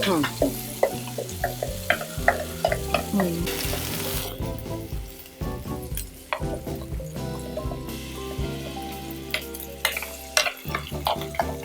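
A steel spoon stirs spices frying in hot oil, with rapid metallic scrapes and clinks over a continuous sizzle and some quiet talk in the background.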